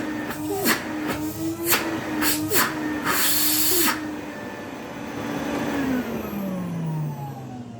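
A 1977 Electrolux Z302 vintage vacuum cleaner runs with a steady motor hum that drifts downward in pitch as it winds down, broken early on by several short bursts of hiss and clatter.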